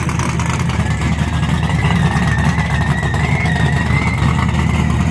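A Chevy car engine runs steadily and fairly loud, a continuous low rumble with a mid-range whine throughout, no speech over it.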